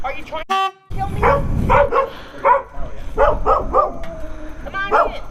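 A dog barks repeatedly in loud, close bursts, mixed with people talking and a brief horn-like tone near the start.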